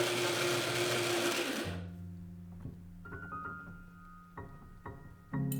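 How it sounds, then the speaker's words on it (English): A blender whirs through cooked beans and a little of their cooking liquid, a loud steady roar that cuts off abruptly, followed by quieter knocks and brief motor pulses. "then blend part of the beans with a little bit of the cooking liquid until silky"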